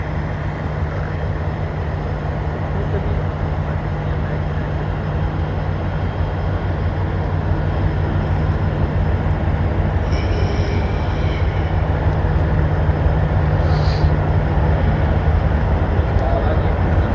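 Train standing at a crowded Faisalabad railway station: a steady, loud low rumble with a sustained engine hum running unbroken through the whole stretch, plus faint brief sounds in the background.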